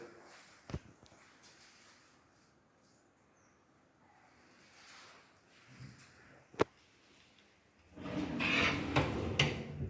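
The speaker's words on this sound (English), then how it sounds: "So I'm just going to open up the drawer." A wooden drawer at the base of a new wardrobe slides open with a short knock and a sharp click, followed by a louder rubbing, sliding scrape near the end, in a quiet room.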